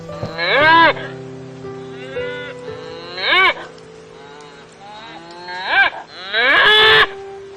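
A calf calls out for its mother cow in a series of four loud, drawn-out moos with quiet gaps between them, clear and close with no voice over them.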